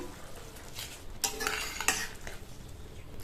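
A spoon stirs cabbage and chana dal kootu with a tempering through it in a pan, giving soft scraping and occasional clinks against the pan at a moderate, unhurried pace, with no talk.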